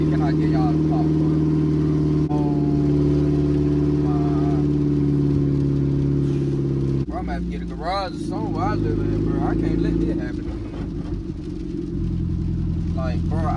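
A supercharged car with its catalytic converter stolen revs its engine, a loud steady rumble that rises and shifts in pitch. Someone talks over it.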